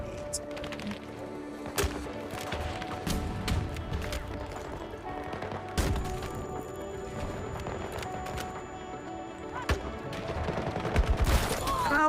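Bursts of gunfire and sharp shots in a first-person shooter video game, loud cracks scattered over a steady busy background of game noise, with a voice talking at points.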